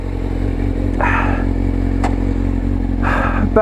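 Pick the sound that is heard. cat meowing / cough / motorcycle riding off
motorcycle riding off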